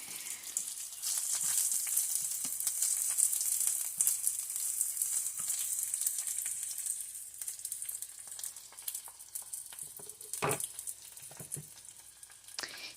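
Spinach frying in a pan as it cooks down, a steady bright sizzle holding throughout with a few small pops and crackles, close and fairly loud, no voices.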